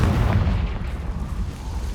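Confringo spell explosion in Hogwarts Legacy, a deep, rumbling boom that fills the low end and decays steadily over about two seconds.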